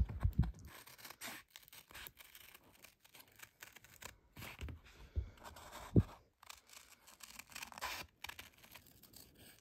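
Scissors cutting out a traced paper circle template for a Dresden plate quilt block: quiet snipping and crinkling paper close by, with a few sharper clicks.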